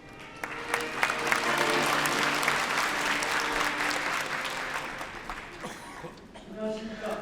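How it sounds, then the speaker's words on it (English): Audience applause at a peace commemoration ceremony, swelling into sustained clapping that gradually fades, with voices and some laughter mixed in near the end. "Please give them a big applause."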